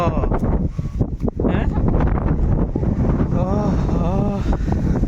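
Steady wind buffets the microphone during rainy weather, a continuous rushing roar that runs through the whole stretch while voices talk over it.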